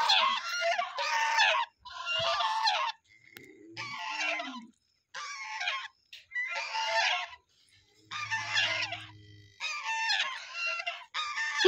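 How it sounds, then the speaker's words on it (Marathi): Chickens indoors give repeated loud, harsh honking calls and crowing in separate bursts with short pauses, close by, with a low clucking murmur between calls. "कोंबड्या बसल्यात हो का इकडं घरात"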